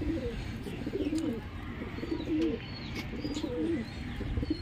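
Pigeons coo repeatedly in soft, rhythmic rolling calls, close by, with faint background chirps and a steady low hum.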